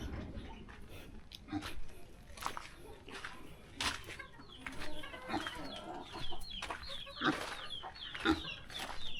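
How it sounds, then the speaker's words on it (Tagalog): Farm rooster clucking and calling repeatedly at close range amid other fowl, with scattered bird sounds over a low background hum and faint human voices. "Ito yung barako natin."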